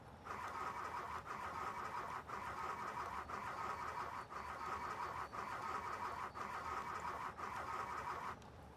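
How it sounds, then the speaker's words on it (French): A car engine in the video game The Long Drive cranks over and over without catching, with a loud, steady churning broken by brief regular dips roughly once a second, and no talking. "la bagnole ne veut plus démarrer"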